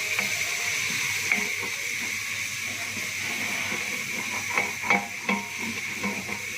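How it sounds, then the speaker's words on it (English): Ginger garlic paste and masalas sizzle with browned onions in a pan for Kashmiri mutton rogan josh: a steady close hiss broken by a few sharp scraping stirs near the end. "I'm going to add my ginger garlic paste with the masalas"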